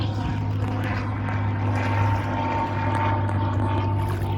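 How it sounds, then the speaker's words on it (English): A helicopter flies over an Atlantic island beach, its engine and rotor giving a steady, droning hum that stays loud and constant throughout with no clear rises or fades. "and now, you see there is a helicopter?"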